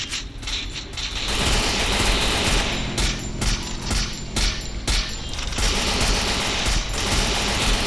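Rapid bursts of automatic gunfire from the Free Fire (Booyah) battle royale game, dense and continuous across the clip, with a few sharp gaps between volleys and a mechanical clatter mixed in.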